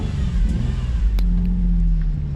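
An Infiniti G35 engine runs at a steady moderate rev, a loud, close, even drone holding one pitch throughout with no voices.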